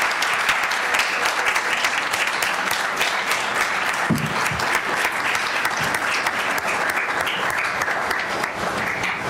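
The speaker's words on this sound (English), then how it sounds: "would you join me in giving a round of applause for our panel of experts?" Sustained applause from a conference audience honoring a panel of experts at a church integrity and accountability event, dense steady clapping filling the whole stretch at an even level.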